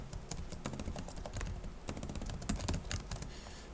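Fingers tap quickly on a computer keyboard in an irregular stream of close, crisp clicks and clacks with brief pauses, and no voices.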